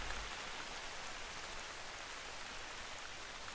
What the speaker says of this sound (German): Wir sind hier bei Regen auf unserem undichten Hochsitz.